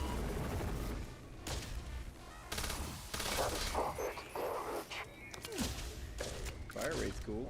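Gunfire in Starfield, Terran Armada DLC: bursts of rapid shots crackle repeatedly through a busy fight, mixed with someone talking excitedly over the shooting.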